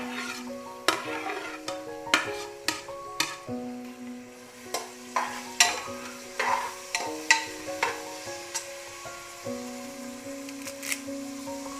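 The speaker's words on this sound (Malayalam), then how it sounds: "അല്പസമയം ഒന്ന് വഴറ്റി കൊടുക്കണം. നമുക്ക് അരിഞ്ഞു വച്ചിരിക്കുന്ന സവാളയും ചേർത്ത് കൊടുക്കാം." Chopped onions are sautéed in a pan for Kalarian kappa biriyani, with a utensil scraping and clicking against the pan in steady strokes over a soft sizzle and faint tonal background.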